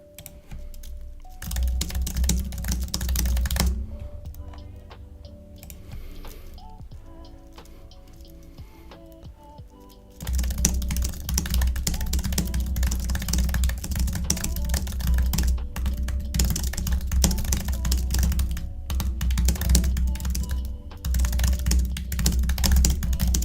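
Rapid, continuous typing on a computer keyboard, loud and close, with dense overlapping keystrokes that thin briefly before resuming at full pace over a steady tonal background.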